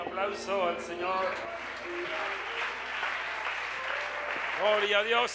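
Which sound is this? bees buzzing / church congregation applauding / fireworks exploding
church congregation applauding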